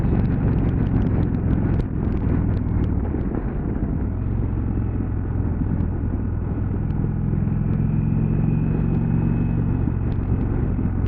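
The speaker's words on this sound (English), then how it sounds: "There's a constant throb there from this big 1800cc twin" A 2019 Indian Chieftain motorcycle's big 1800cc twin engine throbs with a constant low rumble, close and loud under steady wind roar while riding, with a faint whine building later.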